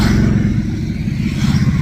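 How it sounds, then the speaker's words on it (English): Loud motorcycle engines rumble close by, a steady throaty roar of bikes passing without pause. "Hold on, there's some motorcycles coming by."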